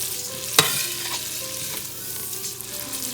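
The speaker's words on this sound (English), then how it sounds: "What I'm going to do now is brown these noodles." Vermicelli noodles browning in melted butter make a crackling sizzle, with one sharp clack of a utensil early on and soft stirring scrapes after it, and no speech.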